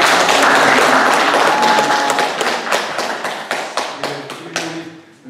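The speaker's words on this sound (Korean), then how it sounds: "장로님 한번 일어나시고 한번 박수 한번 해야겠습니다." Church congregation applause rises in a dense burst of clapping at full volume, then thins into scattered, separate claps that fade out, with no voices over it.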